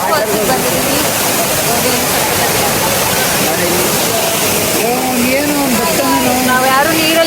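Loud, steady broadband rush of Jeri Falls waterfall fills the whole stretch, with voices talking faintly over the roar.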